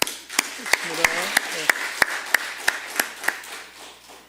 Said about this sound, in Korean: 다시 한번 격려하는 박수 한번 하겠습니다.